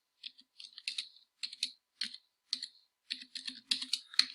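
Someone types a password on a computer keyboard, crisp close key clicks in short uneven bursts with brief pauses between groups of strokes.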